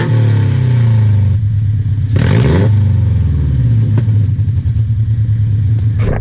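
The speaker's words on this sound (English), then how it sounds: "how obnoxious and ridiculous this exhaust sounds" An engine with a dumped exhaust, unequal length headers and the stock front pipe idles with a loud, lumpy rumble. It blips into a sharp rev burst near the middle and gives another short blip at the end.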